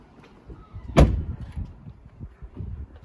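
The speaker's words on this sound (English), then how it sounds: "Door opens and closes with ease." A door on a crash-damaged, repaired Range Rover Evoque Dynamic swings and shuts with one solid thump up close, followed by low handling noises and faint background rumble.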